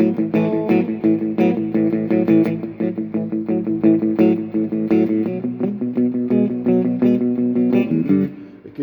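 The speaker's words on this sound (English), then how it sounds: "And the guitar does a little rock and roll thing all the time" Electric guitar with a slightly driven, effected tone plays a short repeating rock and roll riff in a steady, chugging rhythm, close and continuous with no talking.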